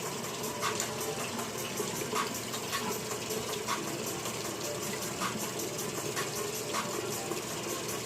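A bathroom tap running steadily as the water warms, an even rushing stream with faint clinks over it, no talking.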